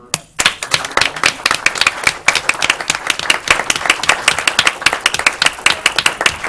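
A room at a school board meeting breaks into applause for students, dense continuous clapping from many hands at moderate distance, steady throughout after a brief quiet start.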